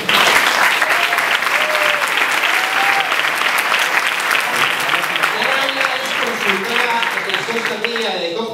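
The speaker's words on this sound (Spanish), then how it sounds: "pido un fuerte aplauso" Conference audience claps in a strong, dense round of applause at a social media marketing event, steady throughout with a voice starting to speak over it toward the end.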